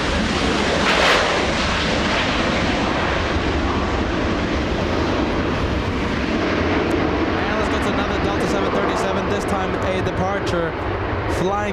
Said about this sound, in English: Delta 1530 flying in from Seattle, Washington, a 2-hour, 15-minute flight.